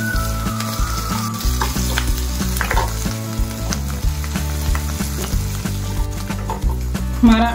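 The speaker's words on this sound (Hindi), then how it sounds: "अब इसे स्टेज पर हम डाल देंगे लहसुन अदरक का पेस्ट और इसे भी हम इसे फ्राई कर लेते हैं।" Garlic-ginger paste frying in a pan for a soya kofta curry, a steady close sizzle with scraping stirs running throughout and no speech.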